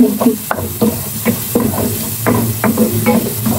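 Onions sautéing in a pan for ginataang papaya with sitaw and sardines, giving a steady sizzle with repeated scraping stir strokes close by and no talking.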